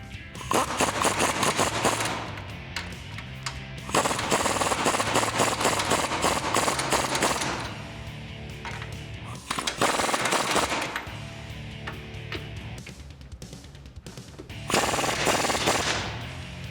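A power impact tool tightens the leaf spring bolts on a 1987-era Jeep Wrangler YJ during a suspension lift install, firing in loud rattling bursts of a few seconds each with short pauses between.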